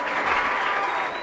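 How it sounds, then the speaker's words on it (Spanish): A crowd at a Spanish-language rap battle bursts into loud, dense applause, a thick continuous roar of clapping that fills the brief moment. "Un aplauso, fuerte."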